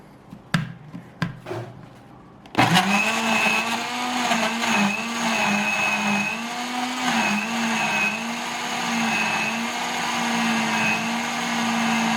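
A few knocks, then an electric blender starts loudly and grinds kimchi paste ingredients with fish sauce, a steady whirring roar whose pitch wavers as the mix churns.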